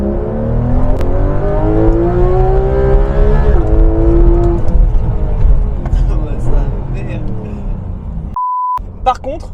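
A Porsche GT3 RS is driven hard on a public road, its engine note climbing and falling through shifts, followed by a brief electronic beep near the end.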